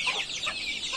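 Young chicks peck at spinach and chirp rapidly in high, close peeps, a busy overlapping cluster of calls in one short burst with no voices.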